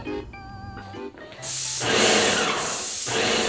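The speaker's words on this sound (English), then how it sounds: "After finally getting the sprayer working, I got a coat of primer sprayed on" A paint sprayer applying a coat of primer indoors: after a short mechanical whirring start, a loud, steady broadband spray hiss takes over, dipping briefly once before continuing.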